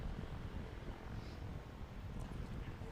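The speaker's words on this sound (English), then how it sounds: "As you can see, that PC-12 taxiing right now." A Pilatus PC-12 turboprop taxis at Ontario Municipal Airport during STOL competition practice, heard as a faint, steady, distant engine rumble mixed with wind noise, with no clear rise or fall.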